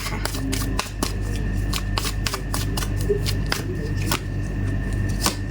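Oracle cards are shuffled close up in a rapid string of crisp riffling slaps and flutters that repeat at an uneven rhythm for several seconds.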